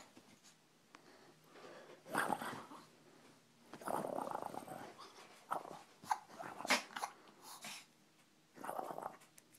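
A puppy growls and snorts in short, close, fairly quiet bursts, with pauses between rumbling grumbles.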